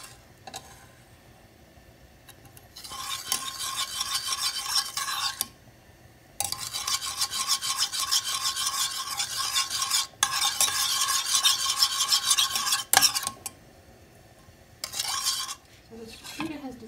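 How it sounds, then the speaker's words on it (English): A spoon gently stirs sugar and water in a pan, giving a steady close scraping swirl in long continuous stretches broken by brief pauses and a few light taps against the rim. "I'm just going to mix it gently until all the sugar has dissolved"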